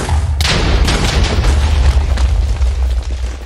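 A TNT blast in a video game lands as a sudden loud boom, then a dense crackling rumble that trails off slowly over several seconds.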